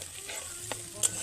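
Poppy seed paste and tomato frying in a pan with ground spices, a soft steady sizzle punctuated by a few light stirring scrapes and clicks, close and fairly quiet.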